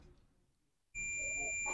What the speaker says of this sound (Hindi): ये देख रहे हैं बीप जो है सो बज रहा है, इसका मतलब है मेरा मीटर सेटिंग में है।